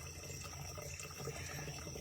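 A slow stream of water from a stream source runs into containers, a steady soft trickling and gurgling close by, quiet and continuous with no talk.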